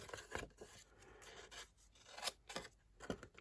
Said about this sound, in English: I'm using my little scissors